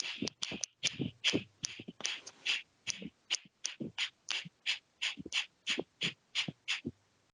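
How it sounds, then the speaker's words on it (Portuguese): Someone does a breathing exercise of short, rapid, forceful breaths: about twenty sharp puffs through the nose in a steady, quick rhythm, close up and alone. "E aí você vai fazer uma respiração curta e rápida."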